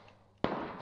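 A grenade in the shooter game Ring of Elysium bursts suddenly, one sharp close blast with a short rough tail, after a moment of near quiet.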